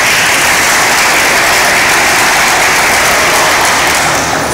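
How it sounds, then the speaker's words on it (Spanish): Loud, steady applause from a conference audience welcoming a magistrate, a dense continuous wash of clapping that fills the whole stretch without letting up. "Aquí pido un fuerte aplauso."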